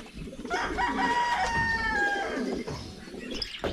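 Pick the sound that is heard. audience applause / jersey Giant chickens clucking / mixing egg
jersey Giant chickens clucking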